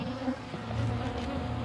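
Honeybees buzz steadily and close by during a cutout of a hive with exposed comb, a dense continuous hum with a few louder individual bees passing near.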